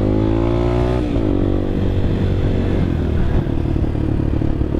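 A CSC TT250 229cc dual sport motorcycle rides by up close and loud, its single-cylinder engine revving and shifting pitch, with some mechanical clatter, and no voices.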